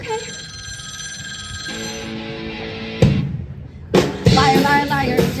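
At an outdoor evening street event, a telephone-style bell rings steadily, fairly loud and close, for about three seconds before it stops and music with voices takes over.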